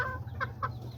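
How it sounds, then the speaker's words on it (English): A rooster kept at a home with other chickens gives two short, close clucks over a steady low background hum, with no talking. "That's the rooster right there."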